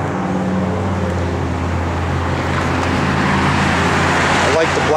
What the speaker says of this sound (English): Flowmaster dual exhaust.